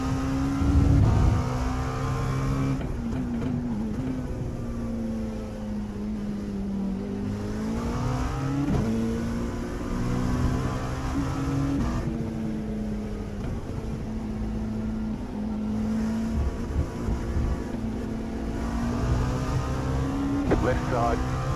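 Race cars in the iRacing sim at Hockenheim during an IMSA race, a steady high engine drone rising and falling through gear changes, with other cars audible around, no talk.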